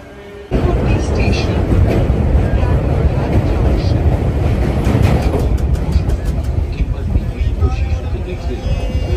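Lalgola–Sealdah train standing at a station platform, a loud steady rumble of engine and carriages that starts abruptly and continues throughout, with faint voices and clatter mixed in.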